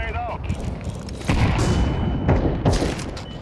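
A grenade blast in a first-person shooter game booms at about a second in, amid scattered gunfire and further heavy thuds, with faint voices underneath.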